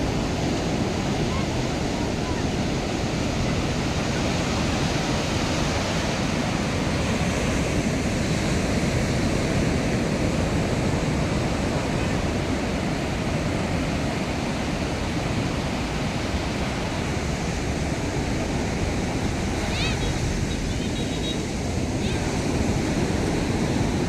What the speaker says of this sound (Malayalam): നല്ല തിരകൾ ആനടിച്ചുകൊണ്ടിരിക്കുകയാണ് കേട്ടോ